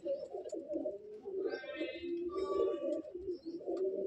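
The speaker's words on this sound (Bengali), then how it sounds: "সমস্ত পায়রা উপরে উঠে ভয় পাচ্ছে" Frightened Madrasi pigeons coo in a loft, a steady low throaty murmur from several birds close by, with brief higher chirps and rustling over it.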